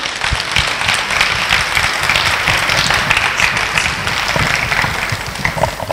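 A large audience at a dance competition grand finale applauds the performers on stage, a dense, steady roar of clapping that stays loud and continuous throughout with no voices breaking through.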